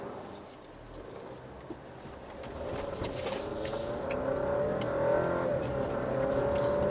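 An Alfa Romeo Stelvio Ti Sport drives over a torn-up road, its engine and road noise rising steadily as it accelerates, with a faint whine building toward the end and no talking.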